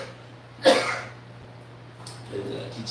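A single short, raspy cough from a man with a sore throat and cold, near and fairly loud, followed by quieter breathy throat noise in a room with a steady low hum.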